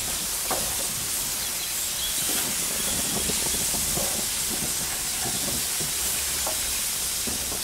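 Peaches sizzling on a Weber Q gas grill, pressed down with a spatula: a steady, dense hiss with faint crackles runs throughout, fairly close, without talk.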